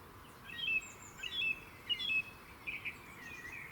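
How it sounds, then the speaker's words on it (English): A blackbird sings at a distance outdoors in May, its faint, fluting phrases and chirps coming in short clusters over quiet background noise, with no talk. "Bloody blackbird."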